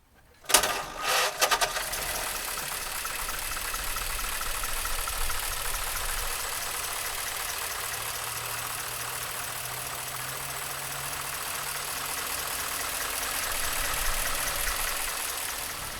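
A 1935 Ford Cabriolet engine settles into a steady idle after a brief clunk at the start, producing an even, fairly quiet running hum under a bright airy hiss, with no voices.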